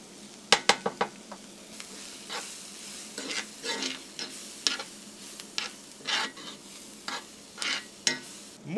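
Onions fry with chili and cumin in a pan for pulled pork enchiladas, a gentle sizzle under repeated close scraping and stirring strokes of a utensil.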